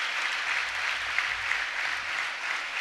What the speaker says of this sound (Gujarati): સરધારા કુશને પણ તાળીઓ પાડીને વધાવી લઈએ આપણે એકવાર